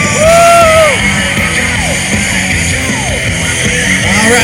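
A state fair crowd at a BMX show in Texas yells and whoops for a rider, a loud, dense roar with scattered shouts rising over it, which swells at the start and holds steady for several seconds.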